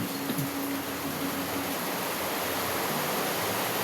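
Constant rushing hiss of a waterfall, even and moderately distant, with a faint low hum briefly underneath and no voices.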